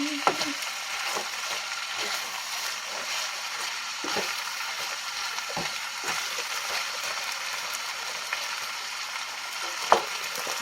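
Garlic frying in oil in a pan makes a continuous even sizzle up close, dotted with occasional light clicks and taps from a utensil, with no talking.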